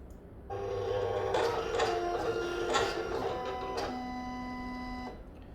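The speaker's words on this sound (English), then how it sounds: "So it just tried to scan the first registration mark and it failed." A Silhouette Cameo 4 cutting machine tries and fails to scan a registration mark, giving off a close, quiet motor whir with tonal whines, shifting pitches and small clicks for about five seconds.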